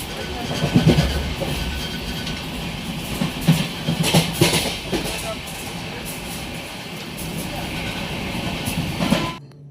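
An Amrit Bharat Express train running on the route from Benares gives a loud, continuous rumble with rhythmic clickety-clack of wagons close by, and voices are heard faintly beneath the noise.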